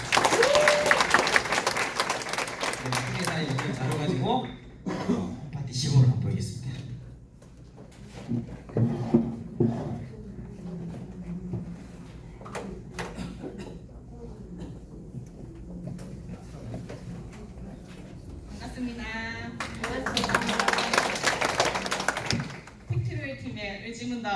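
Burst of audience applause at a home party event opens loudly, then fades into sparse room noise and talk, before another strong round of clapping swells near the end.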